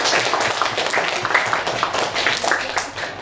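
A classroom of students claps together, a short burst of quick, uneven hand claps at moderate distance with some voices mixed in.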